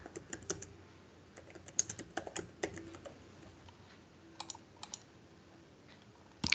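Typing on a computer keyboard while text is entered into an app, with irregular bursts of light clicking keystrokes, moderately close and alone, with a few pauses and a louder clack at the end.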